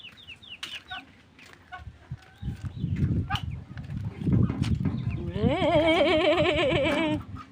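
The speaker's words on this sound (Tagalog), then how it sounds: "Mga baby pato." Little ducklings peep in high chirps, joined by louder clucking and a rising chorus of calls near the end, close and busy.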